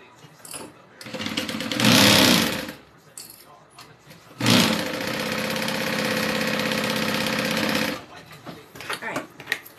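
A sewing machine stitching a bag's interior lining runs in two loud stretches, one brief and one sustained whirring run of several seconds, with quieter handling noise between.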